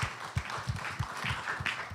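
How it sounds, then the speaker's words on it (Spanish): A church congregation applauds after a Spanish-language discipleship class, a steady patter of hand claps with sharper individual claps standing out through two seconds. "Denle un aplauso al Señor."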